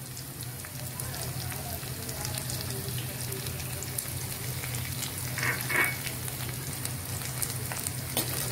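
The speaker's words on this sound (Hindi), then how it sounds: "अब हम इसमें डालेंगे अदरक लहसुन पेस्ट" Ginger garlic paste frying in a pan, a steady low sizzle and crackle running throughout with light stirring scrapes and a brief louder spatter near the end.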